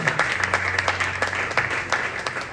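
Rhythmic group clapping at a church service in praise of God, quick regular claps at close range over a low sustained musical tone.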